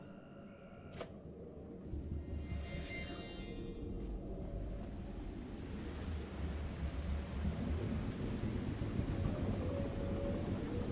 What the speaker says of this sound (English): Wow, look at that lightning.